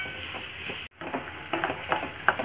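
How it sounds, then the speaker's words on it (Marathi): Chana dal is sautéed in a pan for a cabbage sabzi, with a quiet sizzle broken by a brief silent gap, then scattered scraping clicks as it is turned. "आता मी परतवून घेत आहे"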